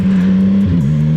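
A CFMoto 675SS sport motorcycle engine droning steadily at close range, then briefly dipping in pitch as it upshifts before settling back to a steady hum, with no voices.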